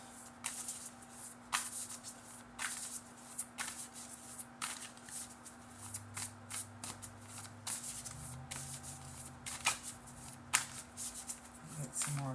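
Tarot cards are shuffled in repeated soft riffling bursts over a steady low hum, with occasional quiet talking in the background.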